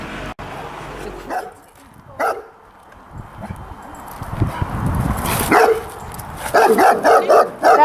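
A frightened dog at a slaughterhouse farm barks in several loud, sharp bursts, clustered near the end over steady background noise.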